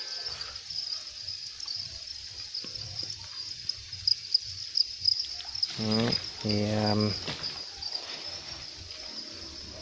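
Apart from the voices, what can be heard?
crickets chirping in a cricket farm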